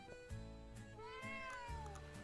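A cat meows several times in a row in a quiet indoor setting, with clear, close, tonal cries with rising and falling pitch and short pauses between them.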